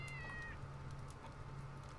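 A single drawn-out cat meow sounds near and clear at the start in Starbound, then fades into a steady low hum of background ambience.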